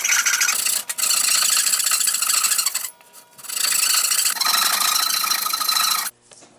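A hand rasp files a wooden knife handle into shape in long, loud continuous strokes, with brief pauses between passes and no talking.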